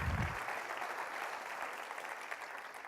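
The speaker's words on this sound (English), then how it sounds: "let's give Joel another round of applause." Audience applause following a talk at a Lemelson-MIT event, a quiet, steady wash of many hands clapping from a distance, with a brief low thump at the start.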